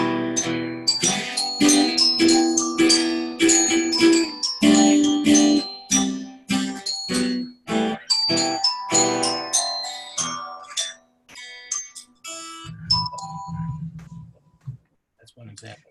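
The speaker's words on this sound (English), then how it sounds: "If you have a pitched instrument such as the resonator bells, you might be able to do something like this." Pitched resonator bells struck one note at a time in a loose melodic pattern, bright ringing tones with short decays, close and clear, ending with a few lower sustained notes.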